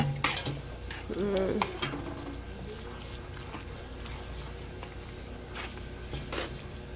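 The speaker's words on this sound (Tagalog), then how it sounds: "Haluin natin ng mabuti para pakasarap niya" Beef stroganoff being stirred in a pot, soft scrapes and clinks of a utensil against metal under a low cooking hiss, close but quiet, with a brief voice near the start.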